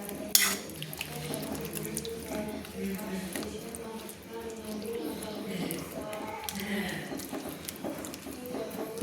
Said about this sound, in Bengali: আমি একটা চামচ দিয়ে কিন্তু মিক্সড করে নিচ্ছি